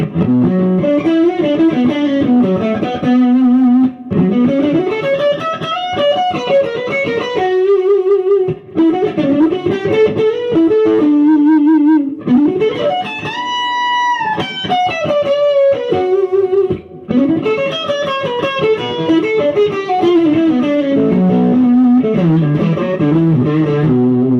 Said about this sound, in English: My favorite of all these pickups is this P90 hum canceling that Fralin wound.